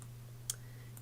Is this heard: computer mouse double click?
yes